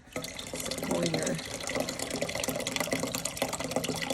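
Two cans of beer poured into a family-size soup pot for beer cheese soup, a continuous splashing, fizzing liquid stream, steady and close.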